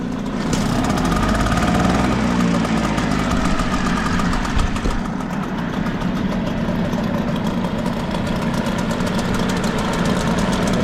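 A small Hangkai two-stroke outboard motor idles steadily and close by, with a buzzy, slightly knocking putter that holds a constant pitch throughout.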